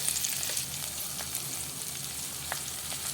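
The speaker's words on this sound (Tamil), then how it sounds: "வெண்டைக்காயை இந்த எண்ணெயில் நல்லா வதக்கி விட்டுடலாம்" Salted okra sautés in oil in a pan with a steady, moderately loud sizzle and a few faint stirring clicks, heard alone with no talking.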